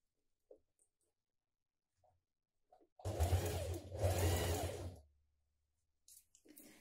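A sewing machine stitches a dress seam in two short close bursts of about a second each, with a low motor hum. Quiet handling taps come before and after in an otherwise silent room.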